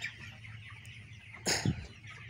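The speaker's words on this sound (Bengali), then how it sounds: "দেখেন মুরগিগুলো কত সুন্দর সুস্থ আছে।" Healthy 22-day-old chickens in a poultry shed, with a steady low murmur of clucking throughout and one louder, brief squawk near the end.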